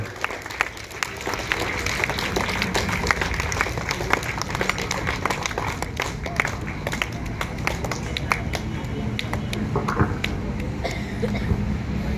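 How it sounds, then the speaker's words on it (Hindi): An audience at a DAV school gathering applauds loudly to welcome the school principal, with dense, sustained clapping from a large crowd lasting throughout. "जोरदार ताली बजा करके आप प्रधानाचार्य महोदय जी का स्वागत करें"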